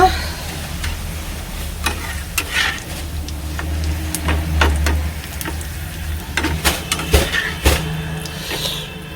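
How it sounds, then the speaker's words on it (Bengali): Papad frying in hot oil, with scattered sharp crackles and sizzling pops over a low background rumble and occasional stirring sounds, with faint voices in the background. "চলো গরম গরম পাপড় ভাজা"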